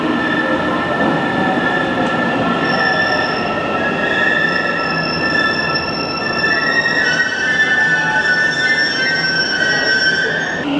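An Istanbul metro train rumbles along with loud, sustained high-pitched wheel squeal ringing over the steady roar, no voices.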